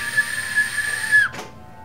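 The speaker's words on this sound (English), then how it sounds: "That right there is a solid whistle." A single long, steady whistle blast is blown loud and close, holding one bright pitch before sliding down and cutting off sharply, followed by a brief breathy puff.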